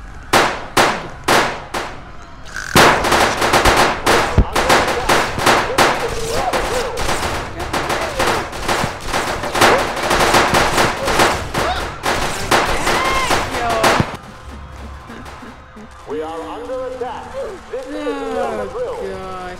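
Gunfire from a gun in a Roblox game, rapid bursts of sharp clanging shots in quick succession, loud and dense, then a quieter stretch with a voice talking.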